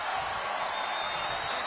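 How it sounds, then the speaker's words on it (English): Video game wrestling arena crowd in WWE 2K25 roaring in a dense, steady wall of cheering for the whole brief moment, loud and continuous. "This crowd is thunderous right now."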